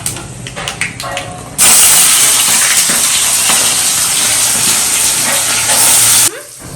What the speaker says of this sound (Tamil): அதுக்கப்புறம் வத்தல் எண்ணெயிலே போட்டு நல்லா வறுத்த விட வேண்டியதான்